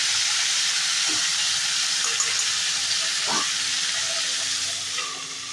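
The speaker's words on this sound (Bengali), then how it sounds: "দু সাইডটা ভালো করে আমি ভেজে নেবো" Fish heads fry in hot oil in a pan, making a continuous close, steady hiss with a couple of faint knocks and no talk.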